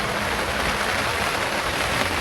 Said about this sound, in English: It's nice though sitting out here and listening to it rain.